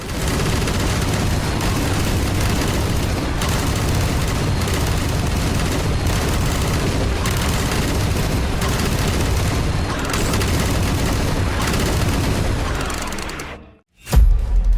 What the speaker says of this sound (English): It's minigun time.